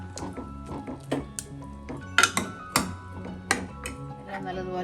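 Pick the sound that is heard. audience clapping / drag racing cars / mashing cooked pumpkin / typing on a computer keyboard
mashing cooked pumpkin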